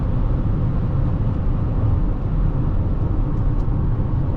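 A 2005 Chrysler 300C with the 5.7L Hemi V8 runs at half throttle on the road, a steady, dense rumble of engine and road noise heard from inside the car.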